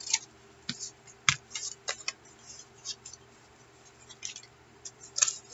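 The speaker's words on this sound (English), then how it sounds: "And we will cut this part off right up here." Scissors snipping through paper while making a friendship journal, a series of short crisp cuts in an irregular rhythm, close and moderately loud, with no one talking over them.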